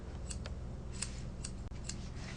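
Scissors snip through hair during a haircut, a series of crisp, close metallic cuts spaced roughly half a second apart, with no talking.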